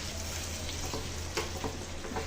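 Curry leaves sizzling in hot oil with garlic chicken dry on a low flame, a steady crackling fry with occasional scraping stirs of a spoon in the pan.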